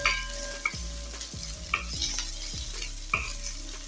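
Chopped green chilli, ginger paste and ginger pieces fry with onions in a pan, making a constant sizzle under repeated rhythmic scrapes and knocks of a stirring spoon about every half second. No one speaks.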